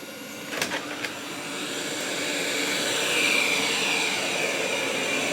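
A Roborock S7 robot vacuum and mop runs with a steady whirring drone that slowly swells in loudness, a couple of faint clicks near the start.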